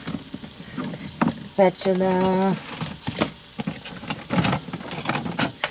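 Hamburger meat, onions and peppers frying in a pan, with a spatula scraping and clattering in bursts over a steady sizzle and a short whining tone partway through.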